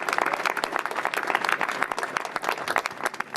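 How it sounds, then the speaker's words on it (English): A large audience at a mayoral announcement applauds steadily, dense overlapping claps filling the room at full volume for the whole stretch. "Let's give them all a round of applause to thank them."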